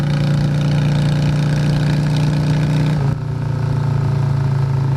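An engine is held at a steady, loud high rev around 4,500 RPM, droning with a strong hum. It dips briefly about three seconds in, then carries on at the same pitch.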